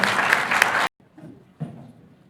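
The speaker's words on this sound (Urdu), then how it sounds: "بھرپور تالیوں میں استقبال کیجیے۔" A burst of audience applause at a seminar cuts off abruptly after about a second, followed by quiet room sound and faint voices.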